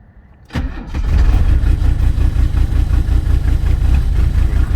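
A 1985 Mercedes 300SD diesel engine cranks briefly after a glow-plug cycle, then catches and settles into a loud, steady, rough diesel idle close by, with no voices.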